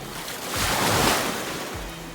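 Ocean waves at a beach, a broad hiss of surf swelling to a peak midway and easing off, with some wind rumble on the microphone.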